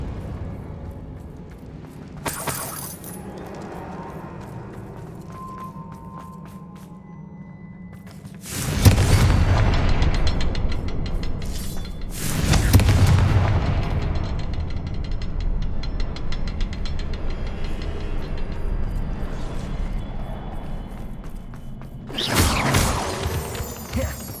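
Spell blasts from Bombarda and Confringo in Hogwarts Legacy, two heavy booming bursts a few seconds apart with a crackling tail, then a sharper burst near the end, over low ambient rumble.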